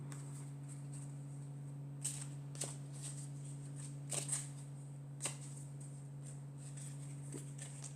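Oracle cards shuffled and drawn by hand, a quiet series of soft riffling snaps and taps spaced irregularly over a steady low electrical hum, with no voices.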